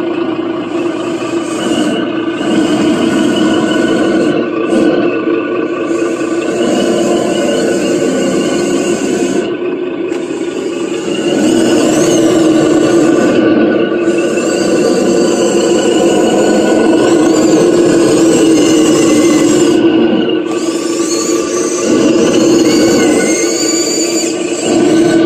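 An ESS Dual electronic sound kit in a radio-controlled Bruder D11 dozer conversion plays a loud, continuous simulated diesel engine rumble with a rough, grinding tone and brief dips in level, heard close up with no talking.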